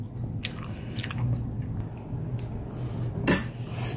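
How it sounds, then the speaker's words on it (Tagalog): Cutlery clinks against a plate while palitaw, a Filipino sticky rice cake, is eaten, a few sharp scattered taps over a soft background hum with no talking. "Let's eat. Try natin ang ating palitaw."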